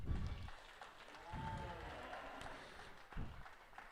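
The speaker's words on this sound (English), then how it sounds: "give this class a round of applause" At a 4-H district show, with steers in the ring, an audience claps in a faint, distant spatter of applause, swelling and fading over a few seconds alongside low thumps and room noise.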